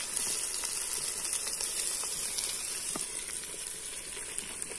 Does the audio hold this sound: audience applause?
no